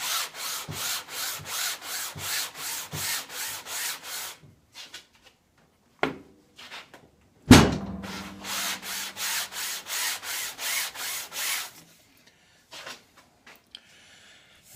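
A homemade wooden fret leveling beam rubbed back and forth on sandpaper gives a steady run of close, rhythmic rasping strokes, then a pause with a few knocks and a sharp thump, before the even scraping strokes resume.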